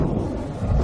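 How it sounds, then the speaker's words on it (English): Thunder from a tropical storm brewing over a reef, a brief deep low rumble that stays steady and loud throughout, with no voices. "A tropical storm is brewing"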